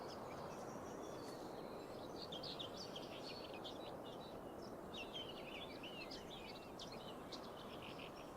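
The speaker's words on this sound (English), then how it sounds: "I can hear the birds chirping up here." Birds chirp and tweet in scattered bursts across a quiet outdoor scene in the farming game Farming Simulator 25, faint calls over a soft steady background hiss.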